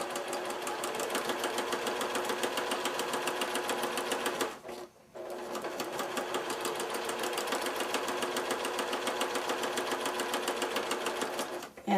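A sewing machine stitches quilt half-square triangle strips in a fast, even mechanical chatter that stops briefly midway, then resumes steadily to the end, close and alone.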